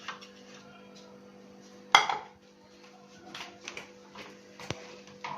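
A knife cuts bread into pieces on a board, giving one sharp clack and then scattered faint scrapes and taps in a quiet kitchen.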